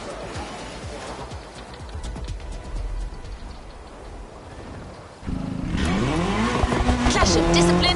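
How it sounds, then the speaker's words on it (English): Racing car and racing bike engines in The Crew Motorfest, engine roar and tire noise building, then rising and falling gear-shift whines grow louder and closer near the end, with a voice talking over it. "When a racing bike meets a racing car, it's a real battle for the asphalt."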